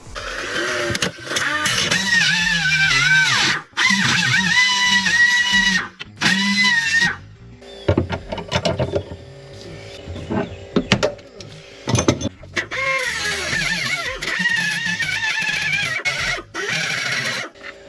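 A Nissan 300ZX turbo's 181-cubic-inch engine cranks and fires close by, then runs loud and rough, with a few brief breaks in the noise.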